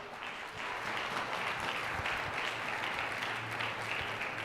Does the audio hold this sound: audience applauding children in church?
yes